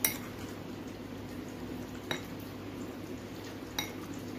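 Chicken pieces being stirred with chicken 65 spice powder in a bowl, a steady soft scraping with a few sharp utensil clinks against the bowl at the start and around two and nearly four seconds.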